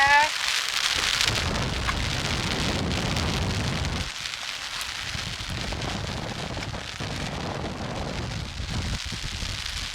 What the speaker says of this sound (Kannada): ಈ ಪ್ರದೇಶದಲ್ಲಿ ಇಷ್ಟೊಂದು ಗಾಳಿ ಮಳೆ ಇರೋದ್ರಿಂದನೇ ಘಟಪ್ರಭೆ ಇಷ್ಟೊಂದು ಭೋರ್ಗರಿತ ಹರಿತಾ ಇರೋದು